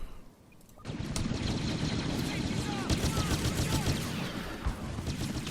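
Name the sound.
blaster gunfire in the video game Star Wars Battlefront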